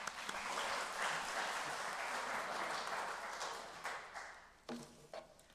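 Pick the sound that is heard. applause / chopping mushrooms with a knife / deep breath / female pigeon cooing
applause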